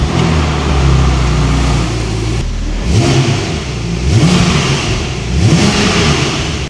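Turbocharged Porsche car engine on a budget GT3 build, idling low and then revved in three or four repeated throttle blips, each rising and falling, loud and close with no talk.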